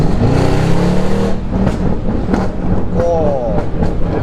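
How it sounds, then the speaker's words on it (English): Mercedes C63 exhaust on a custom MSL map, loud engine note with crackling overrun close by, with people talking over it throughout. "that's a nice overrun on that, that's mad."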